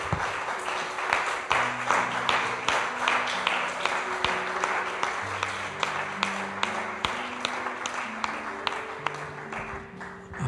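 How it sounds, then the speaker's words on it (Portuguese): A church congregation claps hard at a worship service, a rapid rhythmic clapping that keeps time throughout, laid over sustained keyboard chords. "aplauda com força."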